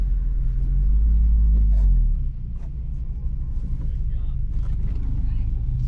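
Rallycross race car engine rumbling deep and loud, swelling heavily for the first two seconds then settling to a steady lower drone, with voices talking over it.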